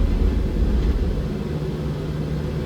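Boeing 777-200LR jet engines roar steadily at takeoff thrust in a flight simulator, a dense low rumble holding level throughout with no speech over it.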